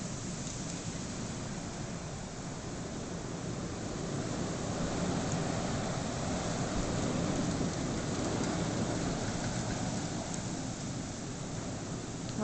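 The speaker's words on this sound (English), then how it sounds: "there's definitely some roaring happening, but it's the wind" Wind roars in a steady, dense rush during a Chicago blizzard at night, a continuous even wash of noise with no clear gusts or breaks and no voices.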